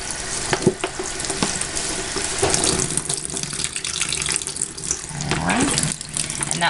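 Soap lather being rinsed from hands under a running kitchen tap, a steady close splashing water stream with shifting spatter as the hands move through it.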